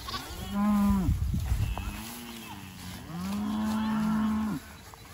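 Cattle on a small multi-species grazing farm moo close by in two long, loud, low calls separated by a short pause. A rustling, thumping noise comes between the calls.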